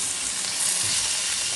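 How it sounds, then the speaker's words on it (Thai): Pork stir-fried in red curry with eggplant, giving a steady, loud sizzle and fry with no pauses and no voices. "คั่วนะคะให้หอมๆนะคะ"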